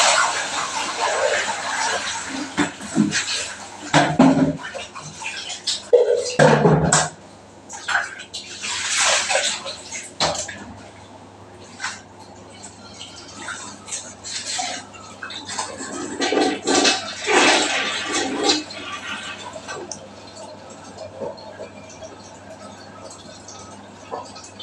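Water poured to rinse while cleaning a hotel bathroom, in bursts of splashing and gushing with pauses between, some scrubbing and faint voices in the background.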